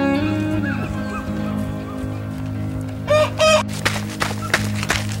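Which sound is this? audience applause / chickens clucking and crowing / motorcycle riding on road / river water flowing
chickens clucking and crowing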